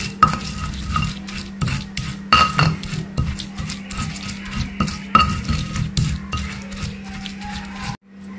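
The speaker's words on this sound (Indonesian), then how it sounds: "Kemudian saya akan ratakan supaya tercampur dengan rata." A spoon stirs chili sambal with shrimp paste in a bowl, giving repeated close scraping strokes and light clinks in an uneven rhythm before stopping abruptly at the end.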